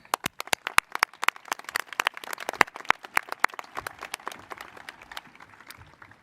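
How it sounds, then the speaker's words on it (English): Graduation audience at Ponaganset applauding the parents, scattered loud individual claps close by that grow thicker, then taper into sparse, fading handclaps. "Give yourselves a round of applause because you deserve it."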